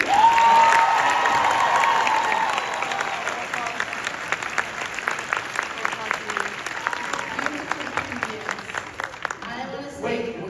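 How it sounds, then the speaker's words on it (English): Audience at a Megacon 2025 Hazbin Hotel panel applauding in a large hall, a loud, dense burst of clapping and cheers that gradually thins into scattered claps before a voice returns near the end. "can we have a round of applause for all of you?"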